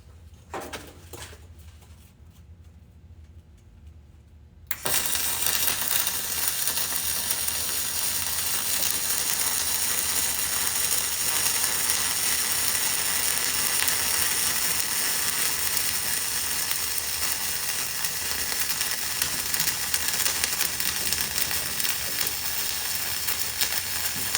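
Flux-core arc welding with the tip held very close to the work, a steady loud crackling sizzle that starts abruptly after a few seconds of quiet and runs unbroken to the end.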